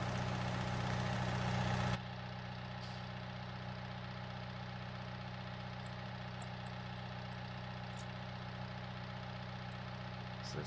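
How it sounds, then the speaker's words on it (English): A tractor engine idles steadily in the Farming Simulator game, a continuous low mechanical drone that runs louder for the first two seconds then settles to a constant hum with faint clicks over it. "So start up the tractor again."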